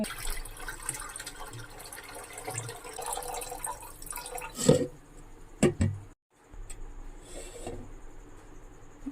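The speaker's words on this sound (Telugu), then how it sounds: "మళ్ళీ వాటర్ పోసి కడిగానండి రవ్వని" Semolina (rava) for idli batter is rinsed as water is poured over it in a bowl, giving a steady wet splashing with a few louder pours and sloshes midway, then a brief pause before a softer trickle.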